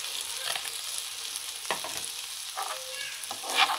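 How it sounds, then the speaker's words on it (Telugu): Grated carrot sizzles steadily in hot oil, a constant crackling hiss broken by a few louder scraping stirs, with no one speaking. "తురిమింది చాలా ఫాస్ట్గా క్యారెట్ ఫ్రై అయిపోతుందండి."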